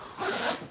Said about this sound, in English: Zippers are quite good.